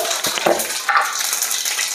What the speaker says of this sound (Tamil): எண்ணெய் காஞ்சிருச்சு. இப்போ கடுகு சேர்த்துக்கலாம்.